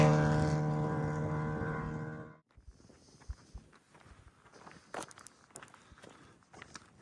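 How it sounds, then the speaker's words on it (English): A motorbike on a quiet rural road in Cumbria, between Kendal and Shap, drones with a steady engine tone for about two seconds before it cuts off, followed by faint, scattered footsteps and rustling. "I can hear a motorbike coming"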